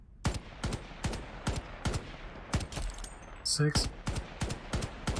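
Rapid bursts of gunfire in the online shooter Shatterline, about a dozen sharp, evenly spaced shots ringing out loud and close, with a brief electronic whine in the middle and a voice speaking over them.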